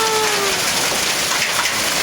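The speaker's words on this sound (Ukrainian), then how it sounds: "Град." Hail pelts down steadily in a heavy storm in Bucha district, a dense, continuous patter of ice on surfaces filling the whole moment, loud and close with no voices.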